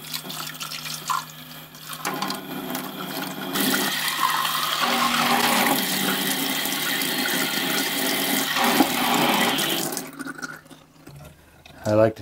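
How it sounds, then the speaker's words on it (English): Dirty water from a Bissell Crosswave Pet Pro mop poured into a utility sink, draining to an upflush toilet, with steady rushing and gurgling water over a low pump hum and speech throughout. "mine's going in this utility sink that goes right into my upflush toilet that flushes everything"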